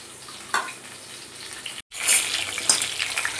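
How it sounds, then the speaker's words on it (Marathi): Eggplants dropped into hot oil to fry, a close bright sizzle that jumps and swells after a brief gap, with faint clatter and no talk. "याच्यामध्ये मी हे वांगे फ्राय करायसाठी टाकते"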